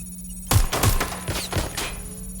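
Gunfire in the video game Watch Dogs Legion, a sudden burst of several sharp, loud shots in quick succession that then trail off into echoing reports.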